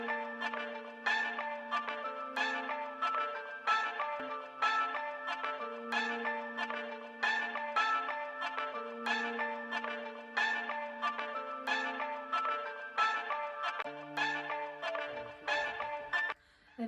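Temple bells ring at Rajim, Chhattisgarh, with repeated bright metallic strikes in a steady rhythm, overlapping tones ringing on clearly and alone for the whole stretch.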